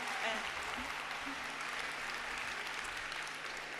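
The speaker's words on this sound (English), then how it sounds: "Give a big round of applause." Conference festival audience applauding after a keynote talk, a steady wash of clapping from a large crowd that holds evenly throughout, with a few voices faintly mixed in.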